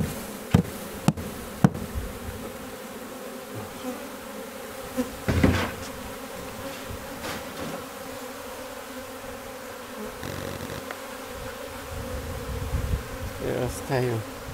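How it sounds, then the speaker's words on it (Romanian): Honeybees buzz around beehives during a late-July hive inspection, a dense, steady drone that continues throughout, broken by a few sharp knocks near the start. "Asta albina ce se duce"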